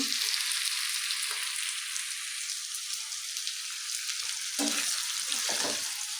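Beef tripe frying and being stirred in a pan at night, a steady close sizzle with light crackles and occasional scraping stirs throughout.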